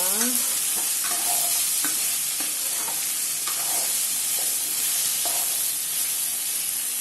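Sliced okra (vendakkai) fried in a pan for poriyal, stirred with repeated scraping strokes over a constant, loud sizzle of frying.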